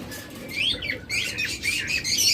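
Pet budgerigars and cockatiels in a bird shop, a busy chorus of shrill chirps and squawks filling the space, fairly close and steady.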